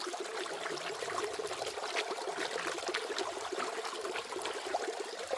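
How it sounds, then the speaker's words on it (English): Water rushing and trickling steadily down a river sluice used for gold prospecting, a continuous bright washing sound, close and even throughout. "Wash the sluice down for any material that's sort of got it in between"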